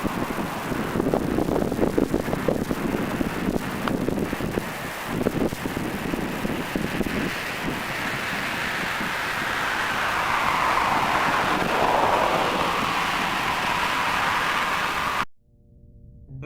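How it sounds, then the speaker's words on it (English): Strong wind buffets the microphone outdoors beside a building, a steady loud rushing roar lasting well over ten seconds before it cuts off abruptly. "Windy day out, huh?"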